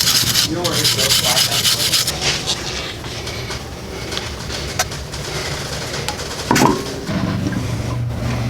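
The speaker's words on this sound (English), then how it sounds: "you'll want to go ahead and wire brush your rotor before you put the wheel on" Wire brushing a rusty brake rotor on a Fiat 500 Abarth in a garage, an up-close, rasping scrub in rapid strokes that fades after a couple of seconds, then a brief clunk and faint sounds.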